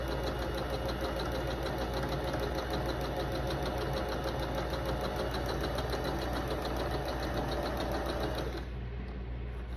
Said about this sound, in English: So I'm going to take it to the sewing machine, line it up to 1/4 inch.